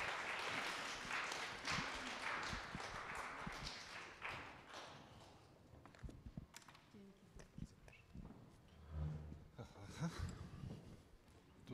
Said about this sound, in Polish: Proszę, brawa.